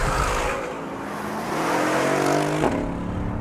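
Mercedes-Benz E63 AMG on the road, a steady close engine drone with rising revs midway and a brief surge near the end, tyre and road noise underneath, no talking.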